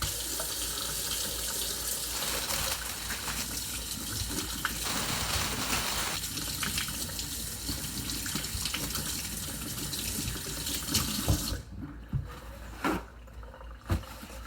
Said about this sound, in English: our step one is to wash our hands for 20 seconds